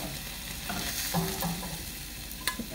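Cooked pork with carrots, broccoli and spinach stirred in a hot pan, with a spatula scraping and clattering over a continuous close sizzle and a sharper knock near the end.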